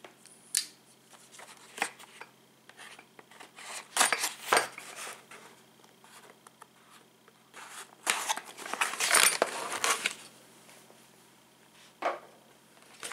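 A knife cuts open the accessories box of a Vizio SB3830-C6M soundbar, giving close, intermittent scratching, slicing and rustling of cardboard and packaging in short bursts.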